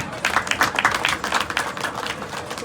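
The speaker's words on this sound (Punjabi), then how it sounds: "ਇੱਕ ਵਾਰ ਮੈਂ ਚਾਹੁੰਦੀ ਹਾਂ ਕਿ ਤੁਸੀਂ ਸਾਰੇ ਜਣੇ ਆਪਣੇ ਆਪ ਦੇ ਲਈ ਜ਼ੋਰਦਾਰ ਤਾਲੀ ਮਾਰੋ" A football tournament crowd gives itself a round of applause, a short burst of dense clapping from many hands that stays fairly steady and then thins toward the end.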